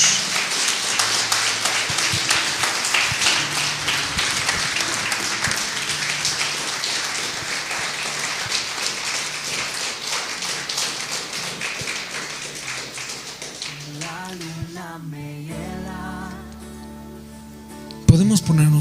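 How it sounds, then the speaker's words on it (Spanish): A church congregation applauds during a sermon, dense steady clapping that holds for several seconds and then fades out, leaving a few faint sounds and a sharp knock at the end. "¿Cuántos quieren darle un fuerte aplauso a Jesús, el Hijo de Dios?"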